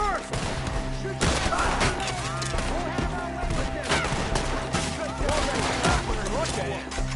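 Rapid video-game gunfire crackles in dense bursts through a forest firefight against Skinners firing down from the treetops, loud and nearly continuous, with excited shouting voices over a tense music bed.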